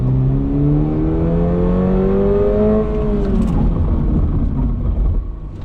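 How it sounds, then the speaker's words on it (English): A 2024 Toyota GR86 sports car slows hard from speed, its engine and drivetrain note sliding steadily downward in pitch over several seconds, loud and close from inside the cabin, with road rumble continuing after the car settles. "I'm just gonna do some hard braking here"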